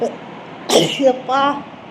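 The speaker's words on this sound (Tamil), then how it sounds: "நெக்ஸ்ட் தும்மல் வரப்போகுது. அடுத்து தும்மா வந்துட்டுருக்கு." One sharp sneeze bursts out close and loud, followed right after by a short voiced exclamation from the same person.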